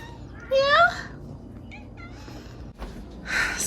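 A house cat meows twice, clear and close, at the start and the end, with a short higher mew between; faint background noise of a home.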